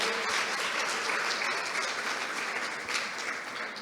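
A church congregation applauds during a service, with dense, steady clapping filling the whole stretch at an even loudness.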